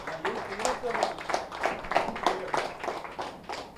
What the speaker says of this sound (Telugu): ఒకసారి భాస్కర్ రెడ్డి సార్ గట్టిగా చప్పట్లు కొడదాం